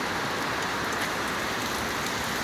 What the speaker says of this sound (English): It's raining so hard that it's flooding in on my floor.